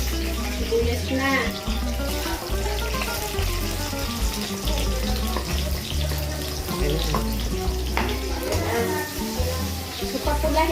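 Onion frying in a pan for pancit canton, a continuous close sizzle under background music with a low, steady beat, while a voice talks briefly.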